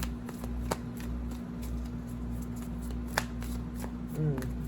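Tarot cards being shuffled and laid down during a reading, giving soft papery flicks and taps with a few sharper snaps, close and fairly quiet over a steady low hum, with brief talk in the background.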